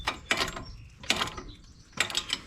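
Bolts on a brake rotor puller are turned with a ratchet, giving three short bursts of clicking, each a quick run of close, moderately loud ratchet clicks with brief pauses between.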